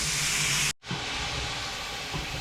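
Mushrooms and vegetables cooking down in a pan, a steady close hissing sizzle that cuts out briefly and resumes, continuing alone without talk.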